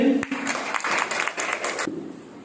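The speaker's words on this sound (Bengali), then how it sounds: "হেমার জন্য জোরে হাততালি" Applause from a Christian gathering, many hands clapping in a lively burst after a voice at the start, then fading out toward the end.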